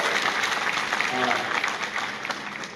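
An audience at a lecture-series event applauding, dense close clapping throughout with a voice speaking over it for a moment.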